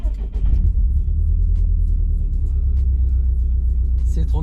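A warmed-up Subaru WRX STI with its flat engine idles nearby in a steady, deep rumble, a slight rise in revs near the start, with no talk over it.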